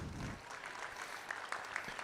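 Audience applause for a fourth-place young exhibitor in hog showmanship at the State Fair of Virginia, fairly faint and distant clapping in an arena, with a few sharper claps standing out near the end.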